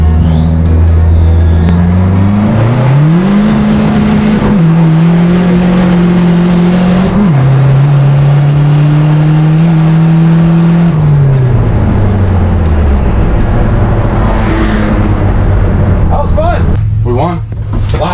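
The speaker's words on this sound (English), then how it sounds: "Wheel spin, no, just like I thought." A car in a roll race accelerates hard from about 20 to 25 mph in second gear, with turbo boost breaking the tires loose into wheel spin. The engine note is loud and close, rising and holding in long surging pulls.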